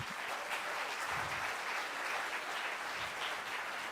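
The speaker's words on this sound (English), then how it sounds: "Another round of applause." Steady audience applause fills the whole stretch at a Canada Day rally, a dense wash of many hands clapping at even loudness with no voices on top.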